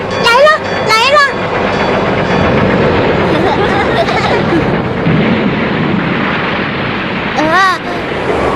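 The non-electric Kaitoku Senpuu Go train approaches in an animated series, a continuous heavy rumble beneath excited shouting voices, with sharp wavering cries at the start and end.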